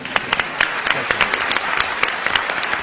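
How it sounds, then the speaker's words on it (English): A crowd at an Intelligence Squared US debate event applauds, dense clapping with a few sharp individual claps standing out, steady and fairly loud for the whole stretch with no talk over it. "I was going to ask for another round of applause for Robert Rosencrantz, and there it is"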